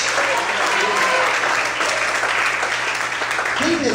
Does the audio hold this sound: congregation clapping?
yes